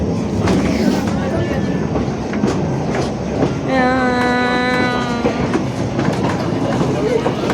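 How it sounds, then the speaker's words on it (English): A Great Whipsnade Railway train at Whipsnade Zoo rumbles along the rails with rhythmic clatter, and a horn sounds midway; voices talk over the steady running noise. "welcome aboard the Great Whipsnade Railway"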